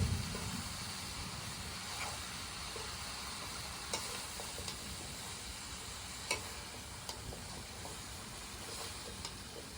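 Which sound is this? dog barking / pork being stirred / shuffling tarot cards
pork being stirred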